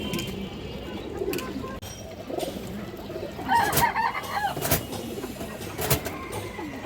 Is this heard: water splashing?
no